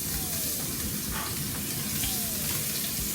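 Green onions fry in a hot pan, a loud continuous close sizzle with crackling throughout, no talking.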